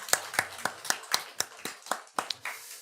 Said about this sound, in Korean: 우리 하나님께 영광의 박수를 한번 돌려드리겠습니다.